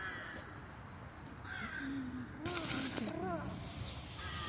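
Crows cawing outdoors in a Romanian city park, several harsh calls rising and falling over a hissing background, fairly distant and mixed with a few brief bursts of noise.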